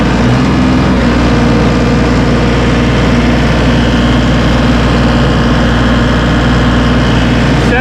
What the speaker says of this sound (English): 74 decibels at wide open throttle. That is a very quiet tractor